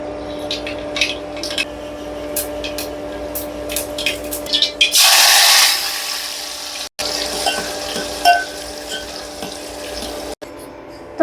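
Dal tempering in hot oil with chutney, onion, tomato, chili and curry leaves, a loud burst of sizzling erupting midway, then settling into a steady crackle and hiss close by.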